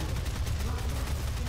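Rapid, dense gunfire from the video game Doom (2016) crackles in a continuous loud burst with no pauses.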